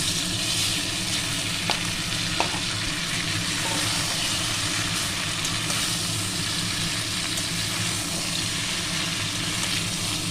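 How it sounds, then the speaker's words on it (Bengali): Fried mixed vegetables tipped into a hot pan with green chilies, giving a dense, loud, continuous sizzle with a couple of faint knocks. "ভেজে রাখা সবজিগুলো আমি সব দিয়ে দিলাম"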